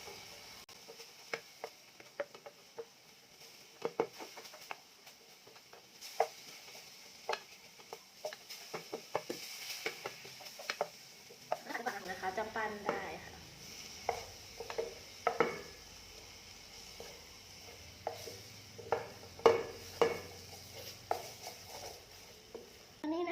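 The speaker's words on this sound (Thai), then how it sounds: "ผัดงากับน้ำตาลของเรานะคะจนกว่ามันจะ ข้นนะคะ" Black sesame and sugar being stir-fried together in a pan, with scattered sharp spatula taps and scraping clicks, plus a low steady hum joining in partway through.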